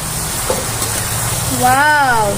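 Meat sautéing in oil at an outdoor picnic cookout, a steady hiss of frying beneath background noise, with a brief voice rising near the end.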